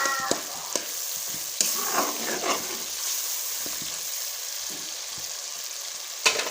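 Spoon stirring a tomato masala mixture in a frying pan for fish curry, scraping and clacking against the pan over a constant soft sizzle, with a few sharper knocks.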